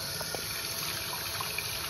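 Water pours and trickles over a pile of dirty coins in a steady, close liquid wash that runs without a break and carries no speech.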